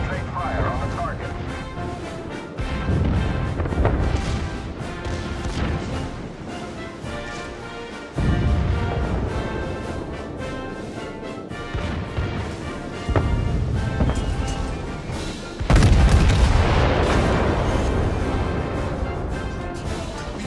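Heavy warship cannons boom in a naval battle video game, a series of loud broadside blasts every few seconds, each with a rumbling tail, while someone talks over the action.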